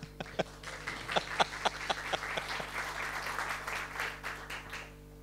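Applause from a conference audience at a panel discussion on GDPR and anonymisation, beginning with a few sharp, distinct claps that swell into a dense, even patter of many hands before tapering off.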